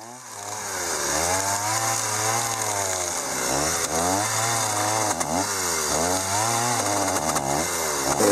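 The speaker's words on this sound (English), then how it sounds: "The log wizard also came in handy to grind away at those big old knots on the outside." A Log Wizard chainsaw attachment grinds knots off the outside of a dugout canoe log, a loud continuous whining engine drone that rises and dips in pitch as it bites into the wood, with no talking.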